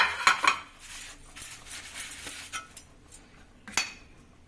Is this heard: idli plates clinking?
yes